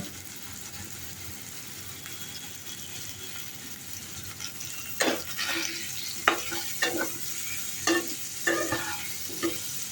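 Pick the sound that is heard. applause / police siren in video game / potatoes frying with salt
potatoes frying with salt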